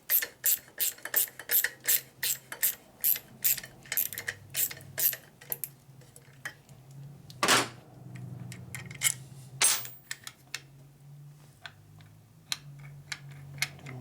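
A ratchet tightens a bolt on a 1972 Harley Sportster Ironhead engine case during a rebuild, giving a quick, steady run of close clicking strokes, then slower, sparser ratcheting and metallic taps.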